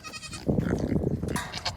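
Goats bleating on a farm during morning chores, with a few close, wavering bleats and a rougher burst in the middle, heard alone with no talk.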